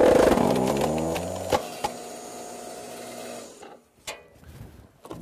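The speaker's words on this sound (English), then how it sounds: "the electric log splitter goes right through it, no problem." An electric log splitter drives through a forked beech log. The motor's loud humming drone winds down after a couple of sharp cracks, then fades to quiet with a few scattered clicks and knocks.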